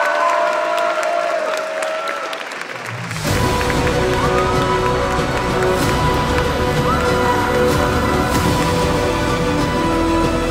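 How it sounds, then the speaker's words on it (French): Silence gives way to a sudden burst of loud crowd applause with cheering, sustained clapping filling the space as performers arrive on stage at a cosplay contest. "je vous demande de les applaudir bien fort"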